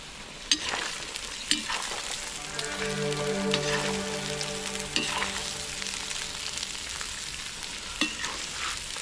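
Sliced onion half rings frying in hot oil in a kazan cauldron, a steady close sizzle with occasional stirring knocks and scrapes.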